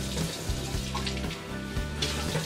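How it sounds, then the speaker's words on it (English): A kitchen tap runs steadily to rinse a vegetable for pasta salad, a continuous close hiss of water with faint clinks and splashes. "I'm gonna rinse it out"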